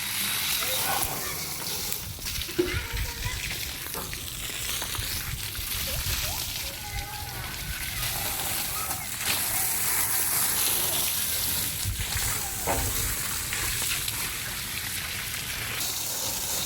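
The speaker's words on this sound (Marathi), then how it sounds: "गाडी धुवून घेतली" A steady, broad hiss of water spraying over a car being washed outdoors in a village, running continuously at close range with voices talking over it.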